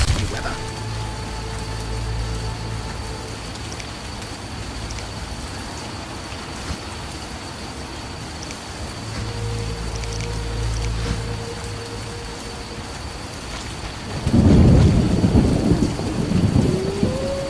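Steady rain falls in The Witcher game's town under a constant hum, and a loud rumbling thunderclap breaks in near the end.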